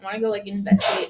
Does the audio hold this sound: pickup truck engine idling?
no